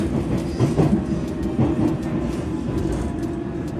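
London Underground train at Ealing Broadway, the last station of the line, rumbling and clattering loudly along the rails with rhythmic clicks and a steady low roar.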